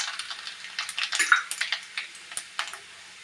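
Whole cumin and ajwain seeds spluttering in hot oil with whole garam masala for a Bengali katla kalia, giving a run of light, scattered crackles and pops throughout.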